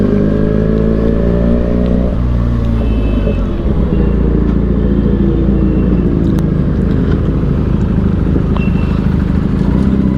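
Two motorcycles, a Benelli 300 and a Yamaha R15 V4, run together with steady, loud, close engine drone and some shifting revs throughout, no talking.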